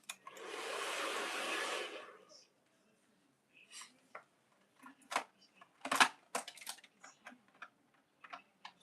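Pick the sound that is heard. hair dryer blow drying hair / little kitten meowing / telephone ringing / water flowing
hair dryer blow drying hair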